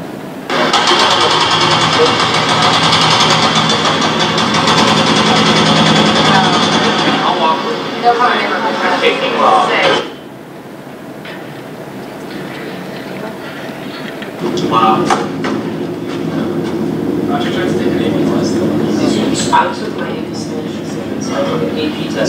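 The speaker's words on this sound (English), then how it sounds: "These are just a couple of videos that we saw over the summer when Metro was demolishing the building in the staging area." Demolition of a building in a Metro staging area roars loudly and continuously with heavy machinery grinding, drops to a quieter rumble midway, then swells again with clanking and scraping.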